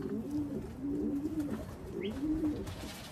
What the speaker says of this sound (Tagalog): Sa yung unang ibon natin ay bumaba eh.